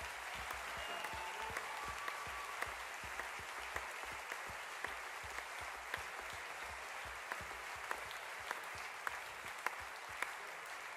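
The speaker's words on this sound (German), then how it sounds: "Ein riesen Applaus," Sustained applause from a crowd at a live stage show, dense and steady for the whole stretch, with sharper individual claps popping out near the front.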